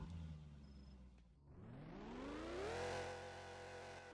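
A car engine in the Driving Empire video game drops to a low idle, then revs up in one long rising sweep that holds loud and steady near the end, with no talking.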